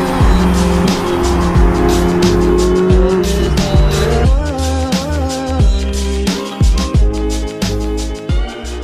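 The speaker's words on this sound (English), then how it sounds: "Oh, I love the sound of that exhaust." A supercar at a Dubai police supercar event roars loudly with revving exhaust and sharp tire squeals, several throttle blips and bursts in the second half.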